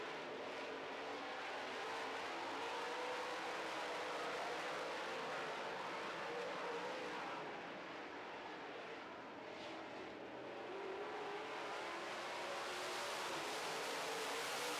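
Late model stock cars roar around an oval track in a feature race, a distant, broad engine drone that swells and fades as the pack passes.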